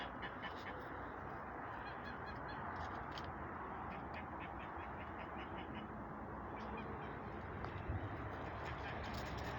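Geese honking repeatedly in short bursts over a dense, continuous background of farmyard noise in February, moderately near.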